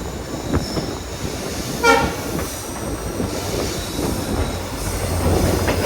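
A train rumbles steadily with rattling carriage noise and a brief high screech near the start as it passes through New Aryankavu railway station without stopping, continuous and fairly loud, no talking.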